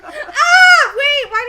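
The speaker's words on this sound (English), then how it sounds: "That would be my cat," A pet cat named Oliver meows indoors, close and clear: a long, rising and falling meow followed by two shorter cries.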